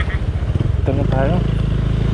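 A Honda Click 125 scooter fitted with an aftermarket exhaust pipe idles with a steady, low, throbbing rumble, close by, while a person talks over it in drizzly weather.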